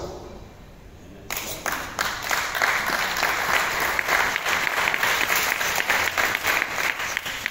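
Participants at a training session in Douala break into applause after a quieter opening second, and the dense clapping holds steady to the end.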